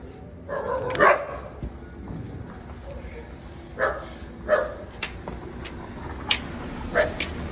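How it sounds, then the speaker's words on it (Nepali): Several dogs bark in scattered bursts, some sharp yips standing out, amid low background noise and occasional talk. "यो कुकुरको ग्याङ छ पुरा।"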